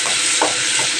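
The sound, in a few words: tomato added to hot oil with cumin, dried chilli and bay leaf frying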